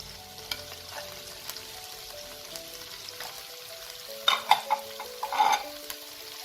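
Small pieces of cauliflower and carrot tumble into a hot pan and get stirred, giving a steady low sizzle broken by a few louder scraping clatters near the end.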